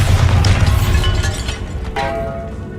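A Bombarda spell explosion in the video game Hogwarts Legacy, set in a tomb, lands as a loud, booming blast with a deep rumble and crackling debris that settles into a fading ring.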